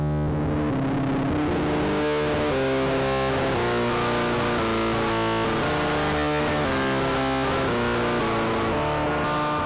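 A rare GmeBogosse4M synthesizer plays a dense, continuous sequence of sustained, saturated tones with a buzzing, distorted texture. It stays loud and steady throughout, with no voices.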